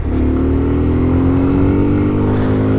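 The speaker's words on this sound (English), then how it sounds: "we are riding a Z125 now" A brand-new Kawasaki Z125 motorcycle with zero miles is ridden, its small engine droning loud and close with a steady, slowly rising pitch as it accelerates, with heavy wind rumble underneath and no talking.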